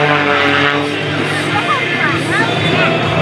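A custom-built 385 horsepower MX2 aerobatic airplane roars continuously overhead at an airshow, its engine tone rising and falling as it maneuvers, while an announcer talks over the noise.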